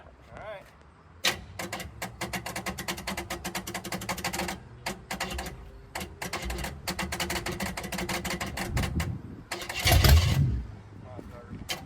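A 1960 Chevrolet Impala engine cranks on its starter in a rapid, rhythmic chug that stops and restarts several times, loud and close, ending in a brief surge, with people talking nearby.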